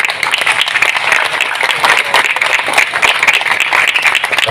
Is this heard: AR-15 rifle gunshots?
no